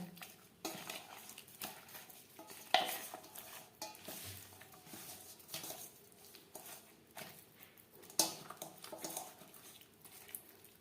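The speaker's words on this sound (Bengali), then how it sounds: "লবণ হলুদ ও লাল লঙ্কার গুঁড়ো দিয়ে মাছ বেশ ভালো করে মেখে নেব" Katla fish pieces are mixed by hand with salt, turmeric and red chili powder in a metal bowl, giving soft irregular squishing, rubbing and occasional clinks, close and quiet with no talk.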